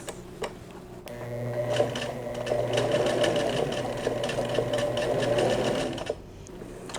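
Sewing machine stitching a buttonhole on a pair of summer shorts, a steady close mechanical rattle of rapid needle strokes that starts after a brief pause, runs evenly for about five seconds, then stops abruptly.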